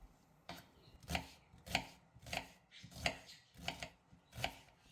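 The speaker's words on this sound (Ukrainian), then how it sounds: "Одну рібчасту цибулину дрібненько нарізаємо." Knife finely chopping an onion on a cutting board in steady, evenly spaced strokes, about eight sharp chops, close and clear with no talking.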